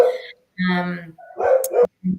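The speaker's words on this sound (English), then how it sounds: "Yeah, that's my dog saying hello." A pet dog barks close by in a home, giving several loud separate barks and yips in quick succession, alone without talk.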